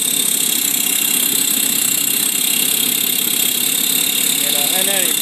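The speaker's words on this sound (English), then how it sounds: "She's been idling now for about 10 minutes." A 1973 Toyota FJ-40 Land Cruiser's 1F engine idles steadily, a loud close rumble with a fast mechanical ticking layered over it, continuing evenly without pause and with a brief squeak near the end.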